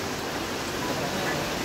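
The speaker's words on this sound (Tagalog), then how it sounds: "Inabot kami ng ulan." Steady rain falling on the way up to a new resort near Mt. Balagbag, a dense continuous hiss with no break and no voices.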